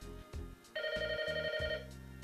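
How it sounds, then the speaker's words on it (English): A telephone in a house rings once in a loud, steady electronic trill lasting about a second, over a low, continuous background bed. "Somebody get the damn phone."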